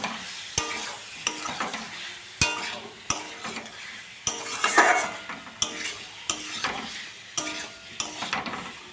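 Boiled potatoes cooked as aloo dum with tomato, garlic, cumin powder and green chili in a pan, soft sizzling under repeated sharp spatula scrapes and knocks against the metal at an irregular rhythm.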